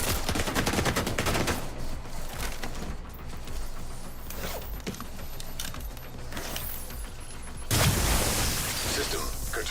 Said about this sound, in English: Get him with a grenade.